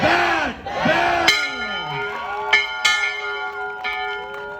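A bell is rung in celebration of a senior's college acceptance, several bright ringing strikes with long sustained overtones over a cheering crowd, loud and close.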